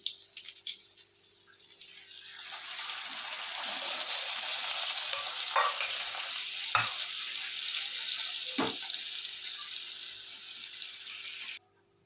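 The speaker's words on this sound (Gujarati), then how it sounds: "મસ્ત મજાની ખાટી છાશ છે તો હવે એડ કરી દેવાની આ છાશને" Sour buttermilk poured into a hot pan of spiced okra curry, a steady loud sizzle and hiss that swells as the liquid hits, with a few soft stirring knocks before the sound cuts off abruptly.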